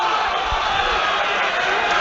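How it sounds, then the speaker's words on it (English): Stadium crowd at a Premiership Rugby match between Bath and Wasps, roaring and cheering to urge Bath on, a steady dense wall of noise throughout with no clear gaps. "Crowd trying to get behind Bath here."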